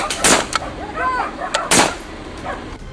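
Police gunshots fired at a suspect: two loud, sharp blasts about a second and a half apart, close by, with a whistling tone and a faint voice between them.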